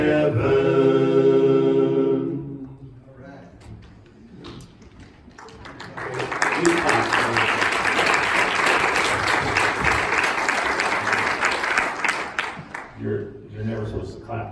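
A congregation at a funeral service breaks into sustained applause after singing, a dense clapping crowd lasting several seconds, then fading as music and voices return.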